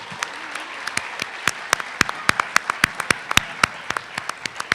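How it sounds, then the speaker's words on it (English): Audience applause at the finals of an annual MLK Jr. oratory competition: a scattered round of individual hand claps, sharp and fairly close, forming an uneven rhythm throughout with no talk. "Let's give Gardere another great round of applause."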